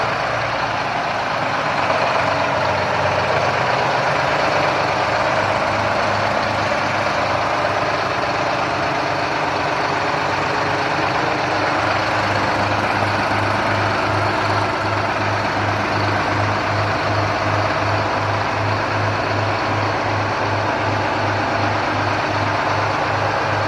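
A Detroit 1271 diesel engine powering a dredging machine runs steadily at idle, a loud continuous low rumble with a regular pulsing throb and no talk over it.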